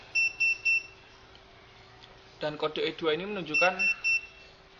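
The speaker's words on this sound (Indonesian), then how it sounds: "Pada mesin ini alarm akan berbunyi." A model 9600 money counting machine that has detected a counterfeit banknote beeps in a quick series of three sharp, high electronic beeps, then a further beep cuts in under someone speaking.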